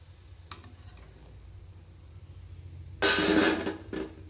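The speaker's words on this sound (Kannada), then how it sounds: "ಈ ರೀತಿ ಲೋ ಟು ಮೀಡಿಯಮ್ ಫ್ಲೇಮ್ ಇಟ್ಟು ಈ ರೀತಿ ಹೊಂಬಣ್ಣ ಬರೋರು ಚೆಂದ ಕ್ರಿಸ್ಪ್ ಆಗೋವರೆಗೂ ಇವನ್ನ ಕರ್ಕೋಬೇಕು" Soya chunks deep-frying in oil over a low-to-medium flame until crisp, for a spicy Soya 65 snack. After a quiet start, a loud burst of bubbling sizzle surges for about a second, then a shorter flare follows.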